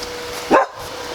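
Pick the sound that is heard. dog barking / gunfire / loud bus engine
dog barking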